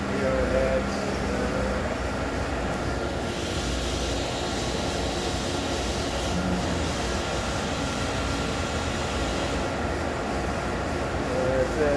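Steady dense mechanical whir of a Star Ecas 20T CNC Swiss lathe running in a shop, continuous and fairly loud with no break, a voice faintly present beneath it.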